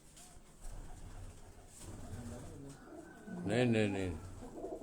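Pigeons coo softly in a loft among breeding birds, with low repeated coos in the background and a louder bubbling coo near the end, while someone talks over them.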